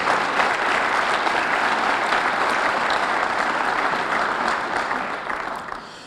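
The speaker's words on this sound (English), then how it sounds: "how about a nice round of applause for all of our candidates this evening?" A crowd claps steadily in sustained applause, dense and even, tapering off slightly toward the end.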